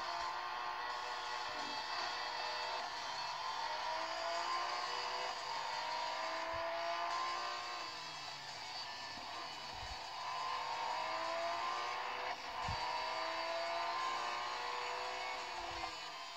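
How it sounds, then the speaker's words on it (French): A Porsche race car engine in the Real Racing mobile game, a continuous whirring engine tone with shifting pitch and a few faint low thumps, played at low volume. "Petite course de Porsche."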